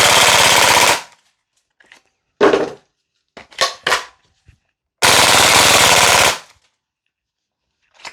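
An HK UMP .45 gas blowback airsoft rifle fires on full auto in two long, loud, rapid rattling bursts separated by a few short clattering shots and silence, with no talking.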